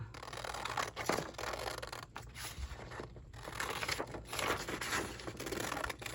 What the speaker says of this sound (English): I'm going to cut one of the Saturdays out